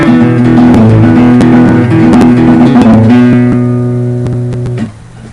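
Acoustic guitar picks a riff over an open-string thumb drone, steady sustained tones ringing together for several seconds before the strings are damped and fall quiet, with no talking.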